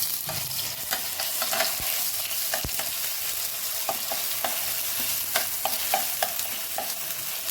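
Ginger garlic paste sizzles steadily in a frying pan for an omelette curry, a dense hiss punctuated by sharp clicks of a utensil stirring and scraping, close and continuous with no talking.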